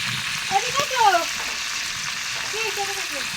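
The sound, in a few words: roast frying in a wok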